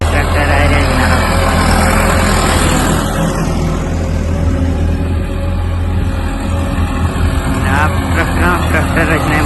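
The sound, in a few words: tractors driving on a sandy road by Mangla Dam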